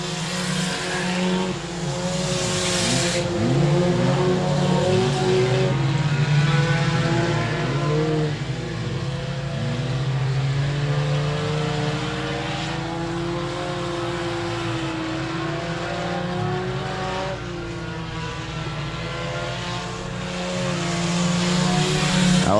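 Four-cylinder race cars lap the 67 Speedway of Texarkana oval coming off turn four, engines droning loud and steady for the whole stretch with overlapping tones from several cars and no talk.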